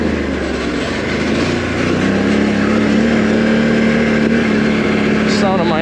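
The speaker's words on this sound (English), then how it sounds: "The sound of my engine's probably scaring them away." A small ATV engine drones steadily while riding an off-road ORV trail near Black Lake, sitting close and constant, with a rider's voice over it near the end.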